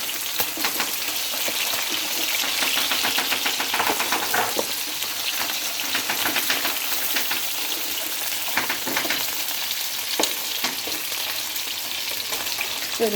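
Julienned peppers sautéing in a pan with garlic and tomato, a steady close sizzle and fry crackle running throughout with occasional stirring clinks and scrapes.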